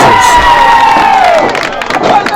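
A wrestling crowd roars and cheers loudly and steadily through a move in the ring, with shouting mixed into the broad, constant noise.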